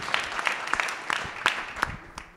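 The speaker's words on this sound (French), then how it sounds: "applaudissements pour Hélène de Saint-Front de Biharmoniste" Applause from a conference audience at a Paris entrepreneurship event, a thin scattering of claps with irregular sharp hits over a soft wash, moderately quiet, with no talking.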